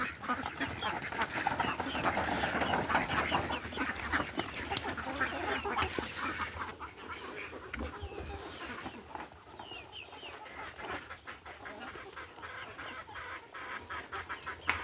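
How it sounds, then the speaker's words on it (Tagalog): Many ducks and chickens clucking and quacking while they scramble to eat free feed, a busy overlapping chorus of fowl calls at moderate volume, with a person's voice now and then. "Tingnan nyo mga itik ko, ang dami."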